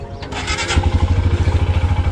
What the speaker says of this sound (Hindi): ये अनुराग भाई की बाइक है रॉयल एनफील्ड